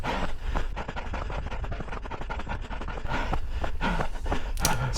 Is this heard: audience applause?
no